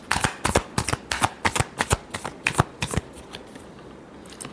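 Tarot cards being shuffled by hand, a close, crisp run of about a dozen rhythmic riffling snaps that slows and fades toward the end.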